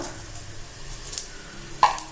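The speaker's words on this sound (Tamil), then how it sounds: "ஜீரகம் பொரியுங்க" Soft, steady sizzling of cumin seeds frying in hot oil, with a faint stir and a small clink near the end.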